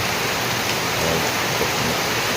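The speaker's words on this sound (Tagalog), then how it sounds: "Tinig lang kayo ng tinig ng ulan" Heavy rain with wind pours down in a dense, constant hiss, loud and close, with no other sounds over it.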